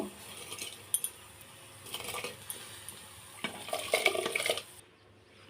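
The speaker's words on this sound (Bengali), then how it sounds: "জলটা গরম হয়েছে চালটা ছেড়ে দেবো" Rice grains tipped into a cooking pot of hot water, with a few scattered clinks and splashy pours, the densest burst coming near the end before the sound stops, close and fairly quiet.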